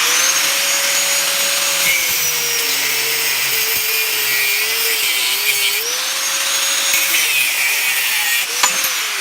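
A power saw cutting six inches of steel stock for a blacksmith hook, with a loud, continuous grinding whine whose pitch dips and rises as the blade works through the metal, and no talk.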